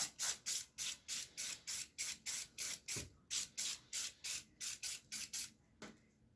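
Short, rapid bursts of CLP lubricant sprayed onto disassembled AR-platform rifle parts, about twenty quick hissing pulses in a steady rhythm, close and loud, with one longer spray near the end and no talking.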